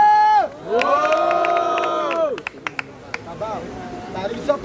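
Rap battle crowd roaring and whistling in a long sustained cheer that cuts off abruptly, followed by scattered shouts and claps over lingering hubbub.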